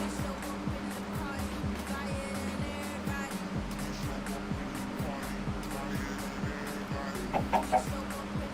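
Chickens cluck repeatedly in the modded Minecraft Stoneblock game, short bursts scattered among steady mechanical whirring from running machines, with a voice talking over it now and then.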